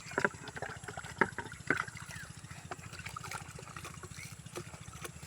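Water poured gently into a planting pit for pumpkin seeds in a field, a soft trickling and splashing at close range with a few louder splashes early on.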